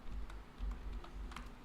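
A computer keyboard is typed on in quick, soft, steady clicks over a low background hum, with no voices.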